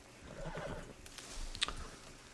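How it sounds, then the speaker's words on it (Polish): A horse gives a single clear whinny in Red Dead Redemption 2 video game, close by, with a few soft hoof clops around it and a brief sharp chime near the end. "Zawołam konia sobie tam."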